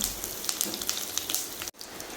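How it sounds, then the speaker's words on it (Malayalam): Heavy rain outside patters and hisses continuously, a dense even wash of sound that cuts out for a split second near the end. "പുറത്ത് നല്ല മഴയാണ്."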